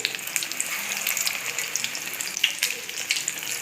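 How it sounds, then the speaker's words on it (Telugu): Ajwain leaf bajji fritters frying in hot oil, a steady close hiss of bubbling with faint crackles throughout and no voices. "బజ్జీలన్నిటినీ నిదానంగా వేయించుకుని"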